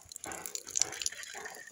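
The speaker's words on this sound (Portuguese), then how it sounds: "aí a nossa bomba realmente puxa água, já tá aqui o chão todo molhado aqui dela jogar" Water splashes and drips faintly onto a wet floor as a homemade, hand-operated PVC hydraulic pump draws water without electricity, with soft irregular gushes and no talk.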